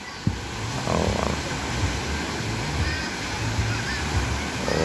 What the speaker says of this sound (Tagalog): medyo malakas pa din yung alon